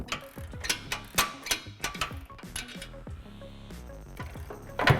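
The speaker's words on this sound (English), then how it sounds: "Tighten the control arm nuts and bolts with a 22mm socket and a 21mm wrench." A ratchet socket wrench turns while tightening control arm nuts and bolts during a Ford F-150 Raptor upper control arm install, giving a run of sharp, close metallic clicks in quick bursts with brief pauses.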